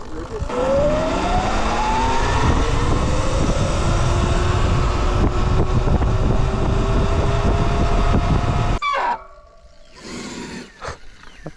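A 72-volt Sur Ron electric dirt bike whines loud and close as it rides down a driveway, its rising electric motor pitch sustained over wind rush, then cutting off abruptly near the end with a few fainter sounds.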